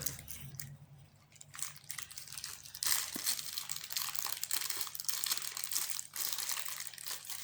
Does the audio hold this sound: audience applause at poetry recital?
no